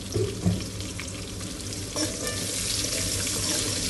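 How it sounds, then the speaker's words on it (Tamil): Finely chopped shallots fry in hot oil for a goat blood stir-fry, giving a steady close sizzle with a few scraping stirs near the start and no talk. "இப்போ சின்ன வெங்காயம் பொடியாக கட் பண்ணி வச்சு சேர்த்துக்கலாம்"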